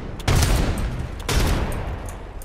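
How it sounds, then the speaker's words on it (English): Two heavy booming blasts about a second apart, each with a long rolling tail, as a modded weapon fires frag grenades in Apex Legends; loud and close, with no talk. "The hop-ups shoot things like frag grenades."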